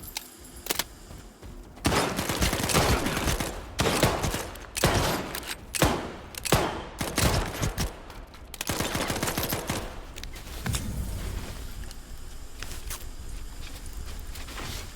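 Gunfire in STALKER 2, loud single shots and short cracking volleys spread unevenly across the span, mixed with footsteps, shuffling gear and bursts of noisy combat ambience.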